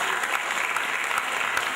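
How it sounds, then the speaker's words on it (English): An audience claps at a community gathering: dense, even applause close and fairly loud, with individual claps popping out of the steady patter and no one speaking. "Clap for them."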